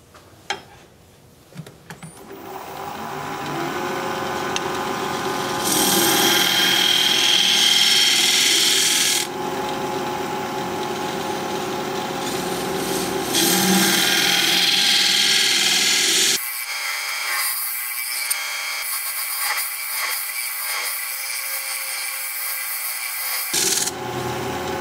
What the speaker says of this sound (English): I think I'm going to use my round nose scraper.